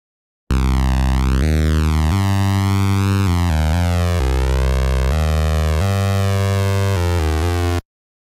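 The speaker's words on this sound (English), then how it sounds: "And here's what the synth sounds like before we compress it." A dry, uncompressed synthesizer line plays alone as a sustained, buzzy tone gliding and stepping between pitches in a continuous phrase, steady in level and bright with harmonics.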